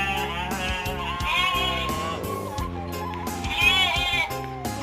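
Sheep in a village pen bleat repeatedly, several wavering cries overlapping close by, with muffled rustling and faint voices around them.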